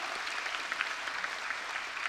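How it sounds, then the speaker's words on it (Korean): A church congregation applauds at an early-morning autumn revival service, a dense, steady wash of many hands clapping together for about two seconds at moderate volume, with no voices standing out. "하나님께 영광의 박수를 올려드리겠습니다."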